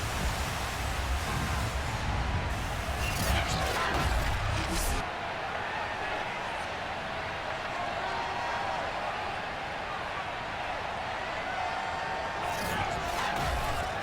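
A Buffalo stadium crowd in the Madden 22 football game roars as a dense, steady wash of cheering noise, with a few brief louder swells, heard close and continuous.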